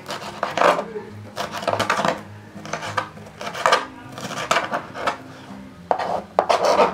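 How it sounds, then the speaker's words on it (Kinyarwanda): A knife chops leeks on a board for a vegetable omelette: rhythmic, close bursts of cutting and tapping repeat steadily, with a voice talking quietly underneath. "Puwavuro nazo turazikata nk'uko twakase za nyanya ndetse n'igitunguru"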